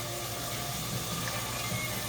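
Canned beans in sauce poured into a cooking pot for chili, a soft continuous wet glugging and sloshing heard alone at close range.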